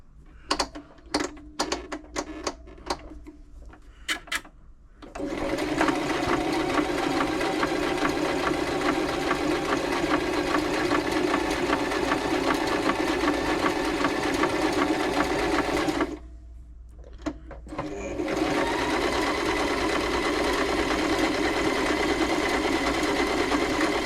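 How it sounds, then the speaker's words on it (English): A Toyota Oekaki RS2000 sewing machine sewing a stretch stitch after servicing, a few clicks and short bursts, then a long rapid mechanical whirring run, a brief pause, and another sustained run, close and alone. "Let's give it a stretch stitch to do."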